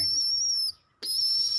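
A young female pigeon gives a high, thin whistling chirp, held clear and close, then breaks off briefly before sounding again.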